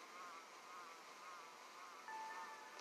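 A bee buzzes in the video game Earthbound, a thin continuous insect drone with a wavering pitch that holds steady and fairly faint throughout, with no other sounds.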